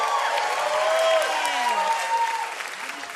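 Studio audience applauds a live band on a radio show, steady dense clapping throughout with a voice speaking over it.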